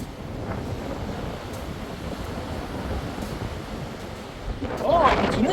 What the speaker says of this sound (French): Peut-être un peu trop fort le vent, mais bon.